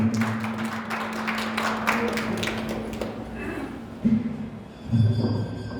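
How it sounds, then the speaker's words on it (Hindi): A crowd at a Hindi poetry gathering held as a birthday event applauds with dense, rapid clapping for about three seconds before it thins out into scattered taps and thuds. "आप उनके आगमन के लिए एक बार जोरदार तालियां बजाएं"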